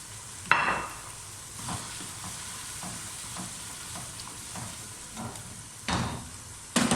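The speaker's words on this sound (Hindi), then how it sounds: "मुझे गोश्त अपना भूनते हुए 3 से 4 मिनट हो चुके हैं।" Mutton frying bhuna-style in a pot for dagi aloo gosht, with a steady low sizzle and intermittent crackling stirs and scrapes, plus a few sharper bursts near the start and end; no talking.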